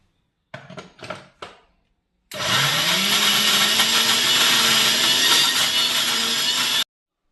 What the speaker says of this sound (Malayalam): വലിയ ജാർ കംപ്ലൈൻ്റ് ആയതുകൊണ്ടാണ് നമ്മളിങ്ങനെ കുറേശ്ശെ ഇട്ടിട്ട് അടിച്ചെടുക്കുന്നത്.